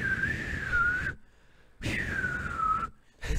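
A voice imitates a wavering, off-key whistle in two sustained bursts, like a poorly played recorder, separated by a brief silence.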